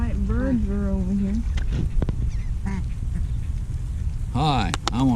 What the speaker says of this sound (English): Now all the white birds are over here.